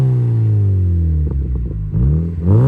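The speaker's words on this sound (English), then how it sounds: "Modification number 10, the very final one, is basically the Cobra road specification exhaust." A Mazda MX5 NC Miata fitted with a Cobra road-specification exhaust revs up and settles, then climbs again in a second sharp rev near the end, loud and close with no voices.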